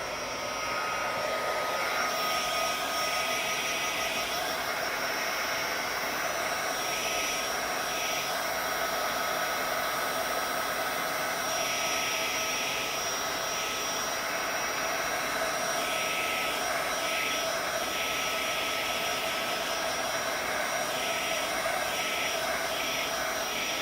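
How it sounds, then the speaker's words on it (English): Heat gun blowing hot air to dry a Halloween card background, a steady near whir running throughout without pause. "I will get my heat gun and plug it in, and then we're going to dry this."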